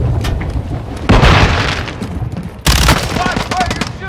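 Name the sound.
gunfire in Call of Duty Modern Warfare 2 video game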